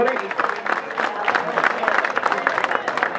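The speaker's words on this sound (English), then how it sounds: "Round of applause, please, everybody." A crowd at an evening trucking club motorcycle raffle gives a round of applause, a dense wash of clapping and crowd noise lasting a few seconds without distinct speech.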